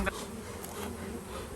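Honeybees from a package being installed into a hive box, a steady close, dense buzzing of many bees that continues throughout the short stretch, with one brief spoken word near the start.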